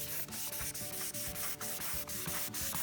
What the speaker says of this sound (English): So we have a block here with some 1200 grit, so it's flat, and we're just going over this, and it's definitely taking that down fast.